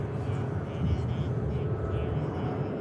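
KLM Embraer E-Jet airliner flying past at Manchester Airport, a steady broad engine roar at middle distance that holds level throughout without fading.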